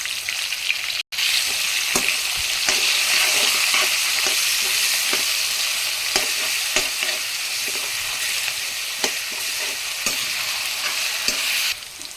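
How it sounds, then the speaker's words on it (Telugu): Drumsticks frying in oil with masala paste, turmeric and ginger, giving a steady loud sizzle broken by repeated scraping stir strokes through the pan and a brief cut near the start. "మసాలా పేస్ట్ కూడా ఆయిల్లో మంచిగా కలిసేటట్టు అయితే మిక్స్ చేసేసుకున్నాము"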